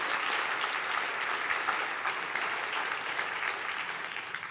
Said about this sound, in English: So if we offer them all a clap for backstage.